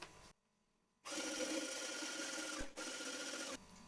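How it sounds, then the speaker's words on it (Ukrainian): Eggs salted and lightly beaten with a wire whisk for a spinach omelette with cheese, a dense continuous whirring clatter close by that starts after a short pause, runs steadily for about two and a half seconds and dips briefly once. "Яйця солимо за смаком і злегка збиваємо вінчиком."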